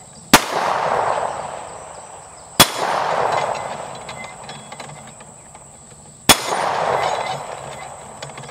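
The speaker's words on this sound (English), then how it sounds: "Actually, let's do 4 shots at the steel plates." Three sharp, loud shots from a CZ P-07 pistol in OD green, fired at steel plates on an outdoor range, each spaced a few seconds apart with a short ringing decay after it.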